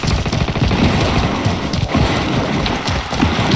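Steady, dense automatic gunfire in Warzone, continuous loud rattling bursts with a windy rumble underneath and no pause.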